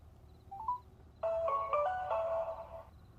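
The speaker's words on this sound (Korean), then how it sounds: "이번엔 다행히도 신호음이 들렸다." A telephone call rings out from inside a car: a brief faint beep, then a louder electronic ringing melody of a few repeated tones, close and clear, fading near the end.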